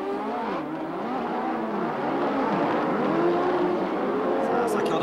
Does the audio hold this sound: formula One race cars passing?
yes